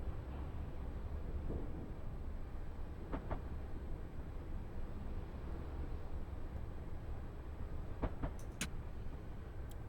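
Class 319 electric train running from London St Pancras toward Bedford in Train Simulator 2021, a steady broad rumble and hum of the moving unit with a few brief clicks and tones, no talking.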